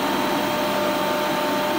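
An automotive AC refrigerant recovery machine pump, used with the single-hose method, runs with a steady, loud mechanical hum and whir and no pauses.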